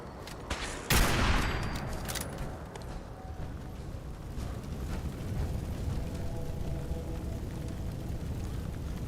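Lorenzo's gun fires in Fallout 4 with a sharp, loud blast near the start after a few lighter pops, then a rough, crackling rumble trails on steadily underneath.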